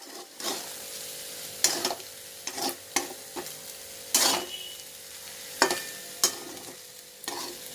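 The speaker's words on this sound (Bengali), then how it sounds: "এবার দেখুন আমি নেড়ে চেড়ে ভাতটা কীরকম চেহারা হয়" Rice is stirred and fried in a pan, with repeated loud scraping strokes of a spatula against the metal, heard up close. The strokes come at irregular intervals over a continuous low sizzle, with no speech.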